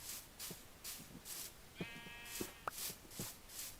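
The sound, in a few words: sheep bleating in Minecraft video game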